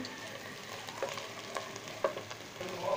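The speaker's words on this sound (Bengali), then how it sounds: "দিয়ে ভালো করে মশলা ভাজবো" Chili, coriander and cumin powders fry with chicken in a hot pan, giving a steady close sizzle punctuated by regular scraping stirs of a spoon.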